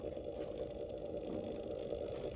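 A strange, steady whirring hum from the blower motor of a 2007 Kia Spectra EX 2.0L, constant and unbroken with a faint rattle riding on it.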